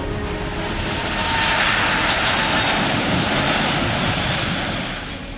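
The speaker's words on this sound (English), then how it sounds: "The Airbus A380 is the world's largest passenger aircraft" Jet engines of an Airbus A380 passenger aircraft make a broad, continuous roar that swells slightly in the middle and eases off toward the end. The sound is heard alone.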